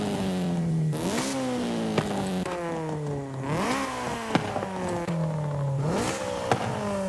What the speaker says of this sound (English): let's go ahead and hear the different exhausts that we can put on the car